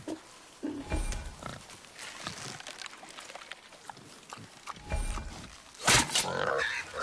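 A wild boar in the God of War game on PS5 grunts and snorts in several close, rough bursts, with rustling and heavier thumps between them and a loud snarl near the end.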